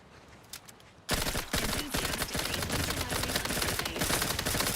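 Rapid gunfire in The Outer Worlds 2, a loud burst that erupts after a quiet stretch and keeps going as dense, sharp repeated shots for several seconds.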